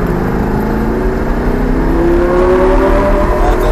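A Lamborghini Gallardo accelerating on a racing circuit, its engine loud and close with a rising, revving pitch that climbs steadily across the moment.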